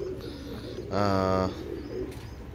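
A single female pigeon coos once, a soft throaty call up close over faint background noise.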